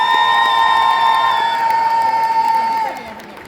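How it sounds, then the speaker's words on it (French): Loud crowd cheering with shouts and whoops at a cosplay contest at a convention, sustained at close range before tapering off near the end, with a tonal musical layer running underneath. "faites un tonnerre d'applaudissements pour Ame Sora"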